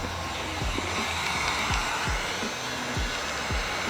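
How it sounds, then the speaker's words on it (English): Heat gun blowing a steady, close hiss while shrinking window film on a Corvette back glass, with low thumps and faint handling bumps beneath the continuous airflow. "A little bit more wiggle waggle on your heat gun"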